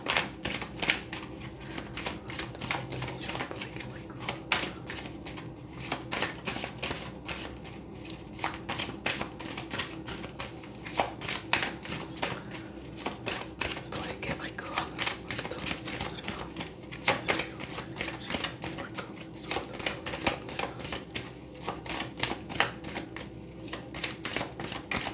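Tarot cards are shuffled and cut by hand, giving a long run of quick, dry riffling clicks that come in bursts close to the listener, with no talking.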